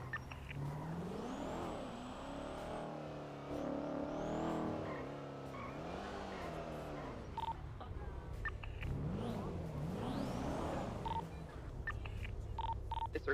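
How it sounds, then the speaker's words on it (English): An MG car in GTA 5 roleplay comes up from behind, its engine revving and rising and falling in pitch as it nears, with steady road and game noise throughout and no speech. "There's the MG coming up behind you."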